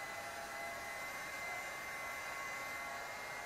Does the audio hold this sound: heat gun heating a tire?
yes